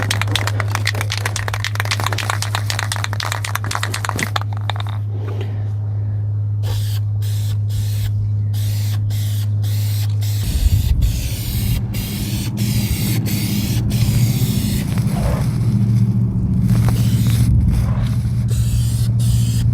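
Spray paint going onto cab corner and rocker panel parts of a 1989 Chevy K1500 4x4 truck, heard as several close, hissing spray bursts separated by brief pauses, over a steady low hum.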